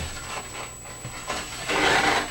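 Rasping, rubbing strokes of a deburring tool worked along a well-polished ski edge, quiet and close, in a few uneven passes that swell louder toward the end, with a faint steady high whine underneath.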